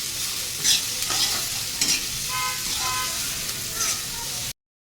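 Onion being stirred and fried in a pan gives a steady sizzle, broken by several sharp scraping stirs of a utensil. A faint horn-like tone sounds in the background before the sound cuts off abruptly.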